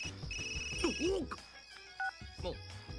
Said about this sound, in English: suddenly my ringtone echoes out in this empty space